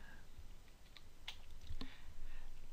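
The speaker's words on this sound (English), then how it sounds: "I'm going to type the word Chrome" A few quiet, scattered keystrokes on a computer keyboard as a word is typed during a Photoshop session, soft clicks with short pauses between them in a hushed room.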